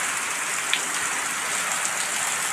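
Rain falling steadily in Vavdi village, a dense, even hiss with faint scattered drop ticks, continuous and fairly close throughout, with no voices.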